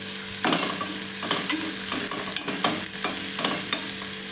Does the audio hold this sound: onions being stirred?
yes